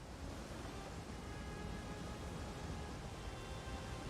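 Water features in a player house in Elder Scrolls Online, video game, give a soft, steady wash of flowing water, faint and continuous, with no voices over it.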